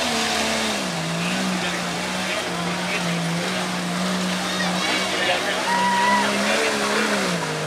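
A 1998 Cherokee racing at a fall festival, its engine droning steadily with a wavering pitch under a loud announcer, with the crowd noise of the event around it.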